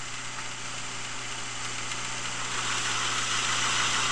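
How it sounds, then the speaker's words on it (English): A metal lathe runs steadily for cutting cartridge case rims, a close, continuous motor hum and mechanical drone that grows slightly louder near the end. "Flip on the lathe."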